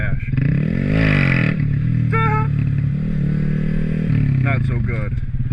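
Motorcycle engine revving loudly and steadily during wheelie practice, rising in pitch near the start and again toward the end, with a voice speaking over it.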